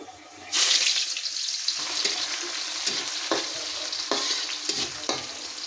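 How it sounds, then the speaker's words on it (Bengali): Onions sizzle steadily in a hot pan, frying until crisp and browned, with a loud continuous hiss broken by occasional scraping stirs. "পেঁয়াজটা বেরেস্তা করে নিলাম"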